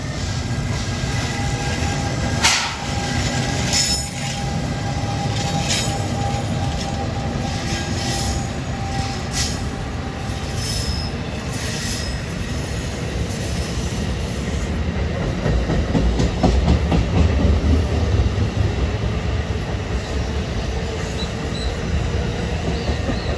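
A train thunders loudly and continuously past New Brunswick station in New Jersey, with rumbling wheels, rail clatter and squeals growing near the end.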